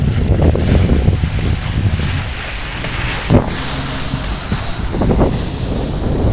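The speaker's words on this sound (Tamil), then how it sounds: "இந்த போட்டில் இருந்தே ஸ்பீட் போட்டுக்கு வந்து கூப்பிட்டு போவாங்க" On the Alleppey backwaters, a speedboat's motor drones as it approaches a houseboat, mixed with steady rushing wind and water noise close to the microphone.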